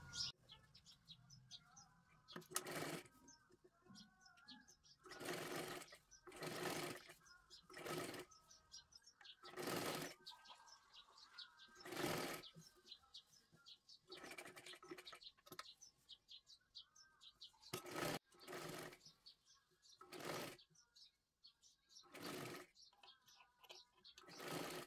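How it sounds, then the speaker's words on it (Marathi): A sewing machine stitches slowly around a princess-cut blouse neckline in short separate runs with pauses between, close and fairly quiet, while faint bird chirps sound in the background. "आता हे पहा, पूर्ण गळ्याला आपल्याला एकदम सावकाशमध्ये शिलाई मारून घ्यायची आहे व्यवस्थित"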